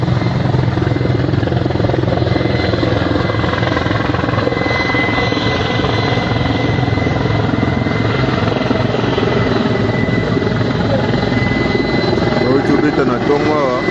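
Military helicopters flying overhead in Goma, a loud continuous rotor and engine roar that holds steady throughout, with a voice talking over it.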